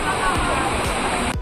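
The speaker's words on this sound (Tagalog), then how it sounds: "Nandito tayo ngayon sa Hulugan Falls dito sa Luisiana, Laguna." Roaring rush of Hulugan Falls, a waterfall in Luisiana, Laguna, a steady loud broadband wash of falling water filling the whole stretch close by, with no break.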